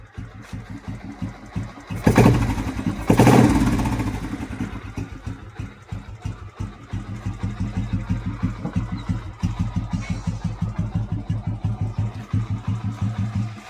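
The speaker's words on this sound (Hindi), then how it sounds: "मैं आपको एक बार इसको रेव करके दिखाता हूँ," A Royal Enfield Electric 350 motorcycle engine sputters and fires, with two sharp revs early on, then settles into a loud, rhythmic, chugging idle.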